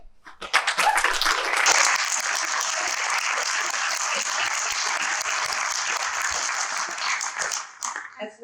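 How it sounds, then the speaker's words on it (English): Applause at a Year 12 graduation ceremony in 2020: a crowd claps loudly and continuously for about seven seconds, then tapers off with a few scattered claps at the end. "can we just give our graduates another round of applause?"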